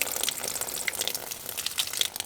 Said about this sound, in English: We turn on the pump.